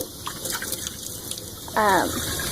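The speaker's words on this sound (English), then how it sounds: "And rinse it out a couple more times." Water splashing and sloshing as a cup is rinsed out at a sink while cleaning up after a marbling session, a brief gush of liquid rising near the end over a steady background hiss.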